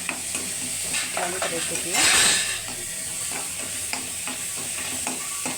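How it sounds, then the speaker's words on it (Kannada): Onions fry in a pan for beans palya, a steady sizzle and hiss with a brief louder burst as they are stirred, while someone speaks briefly over the cooking. "ಸೊ ಆನಿಯನ್ ಸ್ವಲ್ಪ ಲೈಟಾಗಿ ಆಗಿದೆ ಫ್ರೈ"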